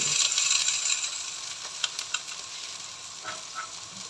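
Shrimp sizzle in a hot pan during a Filipino sauté, a steady bright hiss that fades slowly, broken by a few sharp clicks of a utensil against the pan, with no voices.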